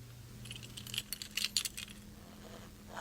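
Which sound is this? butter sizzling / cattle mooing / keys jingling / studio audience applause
keys jingling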